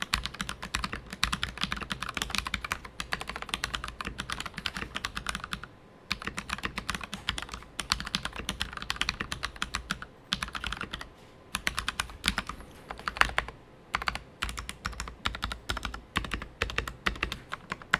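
Fast, continuous typing on a Ducky mechanical keyboard with factory-lubed linear switches, crisp close keystrokes in dense bursts broken by brief pauses, no voices.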